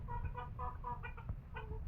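Cochin hens, a giant breed, clucking in a farmyard, a steady run of soft repeated clucks with overlapping calls from more than one bird, close and fairly even in loudness, with no talking.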